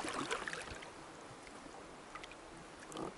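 Choppy waves on Lake Baikal slosh and splash against a small boat as it rocks, with faint, close water sounds and a few louder slaps at the start and end.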